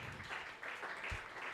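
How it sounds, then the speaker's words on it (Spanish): Church congregation clapping together during a Spanish-language service, a soft, distant and continuous patter of many hands with a low thump partway through. "Dale un aplauso al Señor en esta hora."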